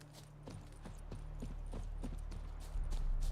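Horse hooves clip-clopping in The Witcher 3, a quick, regular trot of hoofbeats over a low steady rumble, close and moderately quiet, with no talking.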